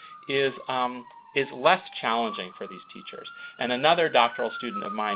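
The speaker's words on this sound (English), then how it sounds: "I apologize for the sirens in the background." Emergency vehicle sirens wail outside across the street from a hospital. The rising and falling tones run continuously and moderately loud beneath someone speaking.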